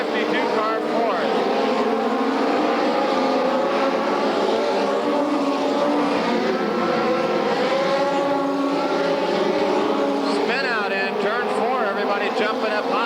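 SCRA sprint cars race on the Bakersfield, California track, a loud, continuous roar of engines rising and falling as they pass, with a race announcer talking over it throughout.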